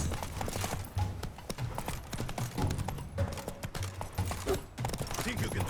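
Roach the horse galloping in The Witcher 3, rapid rhythmic hoofbeats pounding steadily and close over a dense game soundscape of wind and movement, with a brief whinny-like snort.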